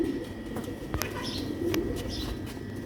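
Pigeons coo softly at close range, with short repeated calls over a steady background and a few brief sharp chirps or clicks; no talking.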